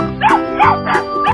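A dog barks four times in close succession, loud and near, with each bark sharp and evenly spaced.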